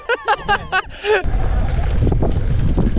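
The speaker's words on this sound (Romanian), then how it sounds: "dar bate vântul" Strong wind roars and buffets the microphone at Azuga Bike Resort during mountain biking, a dense, continuous rumble that takes over right after a brief burst of shouted speech.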